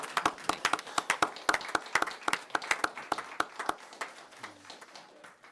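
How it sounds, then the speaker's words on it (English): Scattered applause from a small audience at a county commissioners' meeting, a few pairs of hands clapping unevenly and fairly close, tapering off toward the end with faint talk. "clap now."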